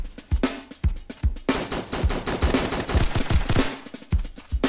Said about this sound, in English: Oh, heard AK.